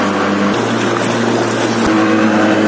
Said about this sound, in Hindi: ये आपका पेट्रोल इंजन है जो अपना दम दिखा दो है